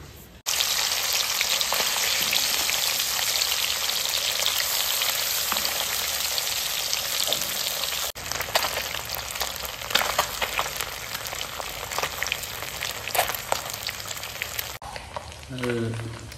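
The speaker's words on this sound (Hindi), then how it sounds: "अपनी जो मछली जो है फ्राई हो रही है" Desi mangur fish fries in hot oil with dense, loud crackling sizzle, nearly continuous with brief breaks and sharper pops toward the end.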